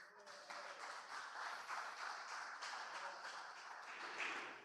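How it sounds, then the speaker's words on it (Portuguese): Applause from a church congregation after a birthday song, a steady wash of many hands clapping together at moderate distance, sustained evenly for several seconds with some voices mixed in. "Palmas para o Senhor Jesus"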